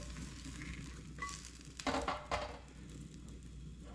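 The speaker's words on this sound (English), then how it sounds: "If you would like to add a sausage, heat your sausage up" A sausage heats in a hot pan for a cheap breakfast, giving a steady close sizzle that swells briefly with a few louder crackling bursts partway through, with no talking.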